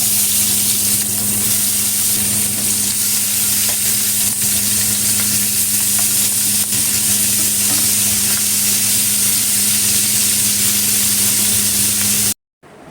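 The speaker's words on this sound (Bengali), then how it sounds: "প্রথমে আমি শিং মাছটা একটু ভেজে নেব।" Shing fish frying in hot oil in a pan sizzles steadily and loudly for about twelve seconds, a continuous dense crackle with a low steady hum beneath, ending abruptly.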